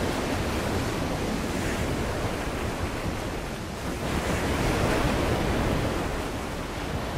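Steady rushing water waves in the video game Call of Cthulhu, a loud and dense surf-like roar that swells slightly midway, with no voices.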